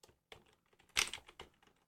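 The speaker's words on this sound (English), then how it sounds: "I'm typing the information" Quick keystrokes on a computer keyboard, a short burst of soft clicks with one louder clatter in the middle, close and quiet in an otherwise silent room.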